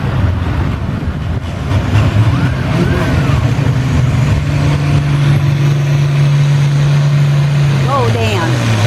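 A pulling tractor's engine roars at full throttle during a tractor pull event, a loud, steady, droning rumble that holds for most of the stretch, with crowd voices and talk over it.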